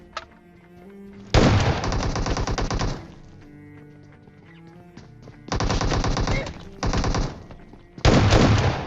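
Automatic gunfire bursts ring out in a battle royale shooter, the S12 shotgun among them, in three loud rapid volleys separated by quieter in-game ambience.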